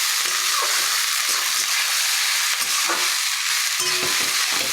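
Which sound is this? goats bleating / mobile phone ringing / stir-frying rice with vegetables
stir-frying rice with vegetables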